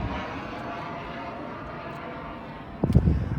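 An airplane passes overhead outdoors as a low, steady drone that hangs in the background, faint and distant, broken near the end by a brief close knock.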